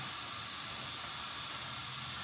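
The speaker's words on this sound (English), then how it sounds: "Just gonna spray some of the vacuum lines back here." A steady, close hiss of spray on the vacuum lines of an RB26 engine runs continuously and evenly without pause, with no other sounds.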